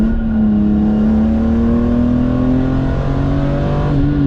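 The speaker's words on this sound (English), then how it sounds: "Let's do another downshift here." BMW E46 M3 with its S54 inline-six and SMG gearbox, heard from inside as the engine blips on a downshift and then pulls hard, a loud steady rising drone.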